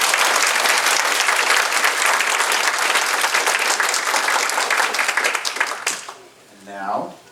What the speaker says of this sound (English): another round of applause for Kathy Matsui.